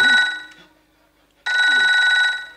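Two bursts of a trilling phone ring, separated by a short silence, clear and close.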